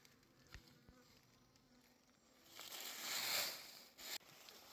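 Honeybees buzz around a hive during a honey harvest, a faint, steady hum that swells louder for a moment as insects pass near.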